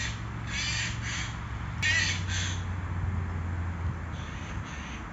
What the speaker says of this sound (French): Des oiseaux qui se chamaillent.